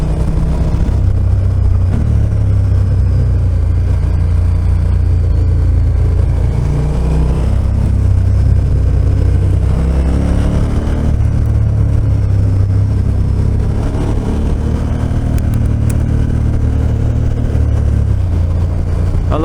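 A KTM 1290 Super Adventure motorcycle rides a narrow single-track mountain road in the Cévennes, France, its engine droning loud and close under heavy rushing wind, the revs rising and falling through bends.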